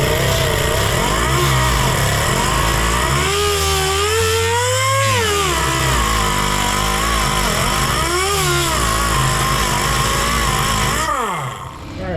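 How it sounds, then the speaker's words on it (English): A sander working on a diesel fuel tank gives a loud, continuous motor whine whose pitch rises and falls as it bears on the metal, then cuts off just before the end. "Let's get the sander in here."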